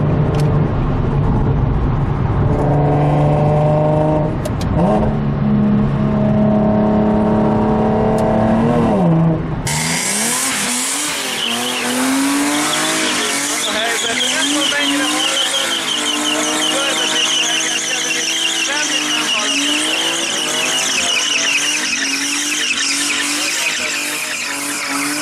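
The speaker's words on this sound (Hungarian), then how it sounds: "egy kicsit meg fogjuk forgatni az autót" A car revs hard and drifts, engine roaring as tires squeal loudly and continuously, close by and sustained for a long stretch.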